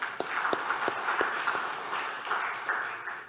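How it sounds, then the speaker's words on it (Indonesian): Scattered audience clapping at a student journalism competition event, moderate and uneven, with individual sharp claps standing out over a thin wash of applause. "Tepuk tangan untuk itu."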